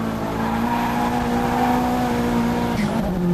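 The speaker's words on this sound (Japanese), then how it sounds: "アクセル床までベタ踏みで流しまくってる。" A drift car held at full throttle in a competition battle, engine screaming loudly and steadily with a constant high whine, tires squealing near the end as the pitch shifts.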